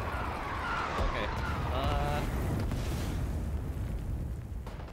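Artillery bombardment in the Rising Storm 2: Vietnam video game, a dense continuous roar of blasts and rumbling debris throughout, loud and sustained, with faint radio-like tones briefly overhead.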